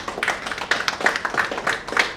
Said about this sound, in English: give a round of applause to a young gentleman from England